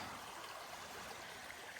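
Creek water at Lick Creek on the Appalachian Trail, where the bridge is out, rushing as a steady, dense broadband wash that stays even and continuous throughout, close by and alone.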